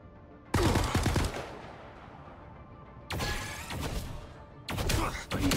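Mystical Missile ability from the video game Marvel Rivals fires in three loud, sharp magical bursts, each a crackling blast that fades out, spaced a few seconds apart.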